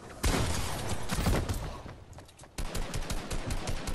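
Rapid gunfire in the Fortnite video game, dense bursts of shots crackling close and loud with a brief lull midway before another volley.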